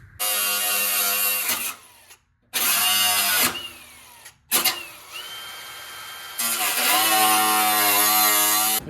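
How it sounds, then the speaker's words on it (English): A cutoff wheel slices along spot welds in the firewall of a 1979 Plymouth Volare wagon, loud and close, with a high grinding whine cut by several short pauses. "I'm gonna get in here with my cutoff wheel and cut along these spot welds I did"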